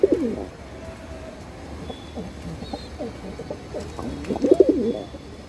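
Pigeons coo in soft, repeated throaty bursts near the start and again toward the end, fairly close, over a quiet rooftop loft background in Bangalore.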